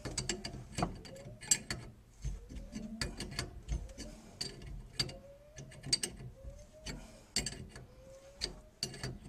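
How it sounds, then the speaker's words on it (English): A 5/8 wrench tightens a nut on a dishwasher's hot water connection under a kitchen sink, giving repeated close metallic clicks and ratcheting clanks in an uneven rhythm with short rising squeaks. "Using a 5/8 wrench, you can tighten the nut down."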